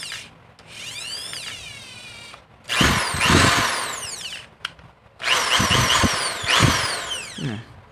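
A Bosch electric drill whines in two long bursts, its pitch climbing and dropping as it speeds up and slows, with short pauses between runs.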